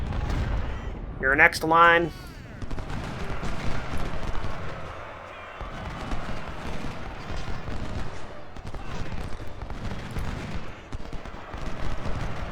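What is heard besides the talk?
cannon and rifle fire in Ultimate General: Civil War video game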